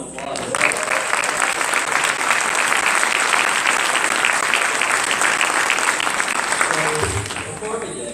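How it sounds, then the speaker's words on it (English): Sustained audience applause after a dance performance at a swearing-in ceremony, dense steady clapping filling the room for several seconds before tapering off. "I think that dance deserves another round of applause."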